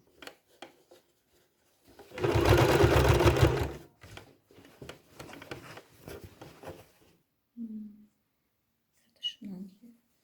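Sewing machine stitching a seam allowance on a sleeveless garment's armhole facing, a dense two-second burst of rapid stitching between quieter handling noises and faint soft sounds.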